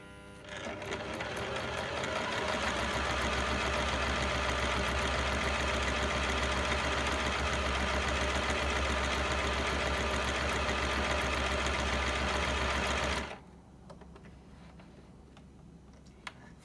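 A ZEN ZN1101 sewing machine stitches pattern A in one long, steady, rapid mechanical chatter with a low motor hum, close and loud, then stops abruptly, leaving near silence with a faint click.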